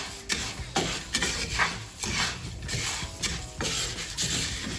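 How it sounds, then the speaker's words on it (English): Spatula scraping and stirring dry roasted spices, cumin among them, in a pan for homemade Sri Lankan curry powder, a steady run of close rasping, rattling strokes with no voices. "We roast it. So by stirring it, you can see it is ready."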